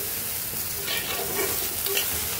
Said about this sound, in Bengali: দেখো খুব সুন্দর করে মিক্স করে দিলাম মশলার সাথে